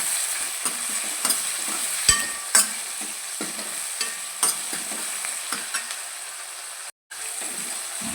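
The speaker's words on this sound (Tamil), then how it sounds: "ரெண்டு சின்ன தக்காளி நல்லா பழுத்த தக்காளியாக எடுத்து வச்சுருக்கீங்க நீங்கள் நல்லா வதங்கட்டும் கொஞ்சமாக கல் போட்டு நல்லா வதங்கட்டும்" Ripe tomatoes sauté with a little salt in a pan, giving a steady close sizzle broken by frequent scrapes and clacks of a stirring spoon, with no talking.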